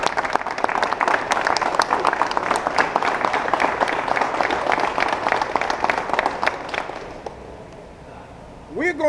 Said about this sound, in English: give this man just a quick round of applause